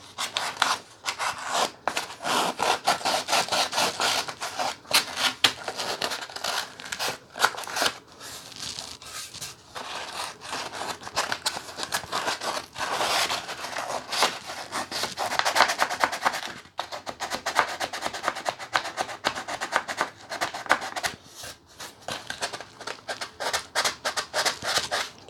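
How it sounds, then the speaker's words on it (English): Hand sanding on the corners of a wooden bass guitar body, a steady scratchy rubbing in quick back-and-forth strokes, close and continuous with short pauses, no talk. "Try to sand a little of that smoothness back into these corners here."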